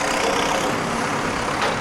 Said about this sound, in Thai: รถบรรทุกที่เห็นออกจากตรงโกดังนี้ไปนะคะ คือเขาเป็นรถสำหรับขนส่งหอยนางรมค่ะ